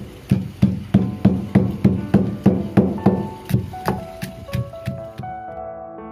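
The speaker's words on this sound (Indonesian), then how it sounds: "Serainya juga kita tumbuk. Tumbuk dengan batang-batangnya." Lemongrass stalks pounded in a mortar for a Dayak cassava-leaf dish, about fifteen regular thudding strikes that slow and soften toward the end, each with a short ringing tail, and no voices.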